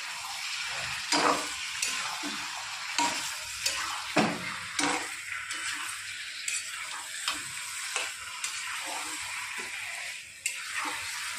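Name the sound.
chicken stir-frying in a wok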